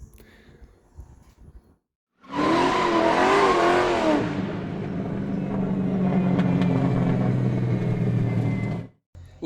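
A 1972 Chrysler Newport Royale engine bursts into life after a quiet moment, revving loudly with a wavering roar before settling into a deep, steady idle that cuts off near the end.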